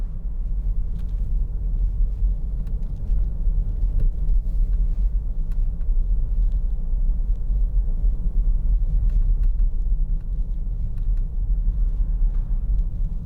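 Inside a 2011 Peugeot 3008 2.0 HDi diesel rolling along at low speed on tickover, a steady low engine rumble and road drone continues evenly throughout with no voices.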